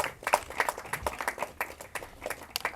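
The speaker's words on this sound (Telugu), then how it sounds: "సో ప్లీజ్ అందరూ ఒకసారి గట్టిగా క్లాప్స్ కొట్టేద్దాం." Audience applause at a Telugu film press meet for Sakala Gunabhi Rama, with a crowd of irregular, overlapping hand claps close by that carry on steadily for a few seconds with no voices over them.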